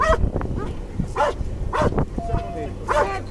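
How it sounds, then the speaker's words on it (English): A police dog barks and yips in short bursts amid shouted commands from officers during an arrest, with the barks mixed under loud overlapping voices. "You will be bit by the dog!"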